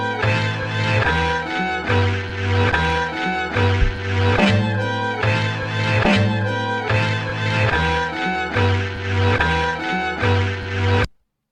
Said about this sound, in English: I just wanted to give it that sweep effect at the end of that bar right there.